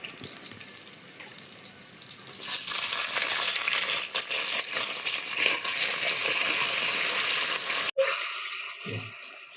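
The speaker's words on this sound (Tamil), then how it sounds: "நம்ம அந்த கறியை கூட போட்டு நல்லா வதக்கிடுங்க" Chicken pieces sautéing with softened onions in a pan: a quieter sizzle first, then a loud, steady frying hiss with stirring scrapes once the meat goes in, cut off abruptly near the end.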